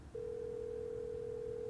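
A single long electronic telephone tone from the Nancy Drew video game Captive Curse, a steady pure note holding for about a second and a half before cutting off, clean and alone.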